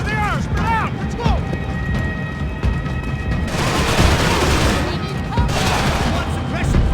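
Gunfire in the shooter Max Payne 3 crackles as sustained, dense bursts of shots during a firefight, loud and close, with shouting voices and other game sounds mixed in.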